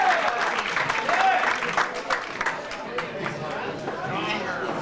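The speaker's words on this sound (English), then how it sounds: "If you give her a nice big round of applause, she'll come out" A gong show audience applauds and chatters as a comedian is called out, a busy wash of clapping and crowd voices at moderate level.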